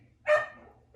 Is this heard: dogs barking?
yes